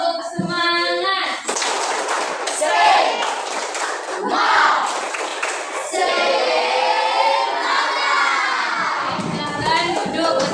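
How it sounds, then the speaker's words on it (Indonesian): Schoolchildren in a classroom repeat a rhythmic spirit clap, their hands and shouted chant rising in loud group bursts, close and lively, with a teacher's voice briefly heard. "Lagi, tepuk semangat."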